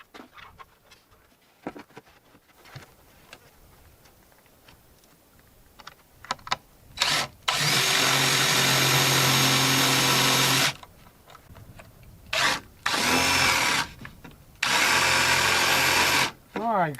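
A power drill drives screws during home improvement work, firing in several loud sustained bursts of whirring separated by short pauses, with faint knocks and handling noise between runs.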